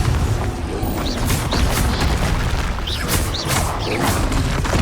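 Confringo fire-spell blasts in the Hogwarts Legacy video game, a string of loud booming explosions and crackling bursts layered over dense, continuous combat noise.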